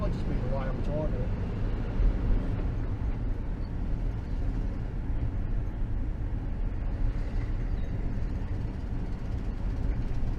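A VW T2 camper van drives along a road, its engine and road noise forming a steady, continuous low rumble throughout, with a person talking intermittently over it.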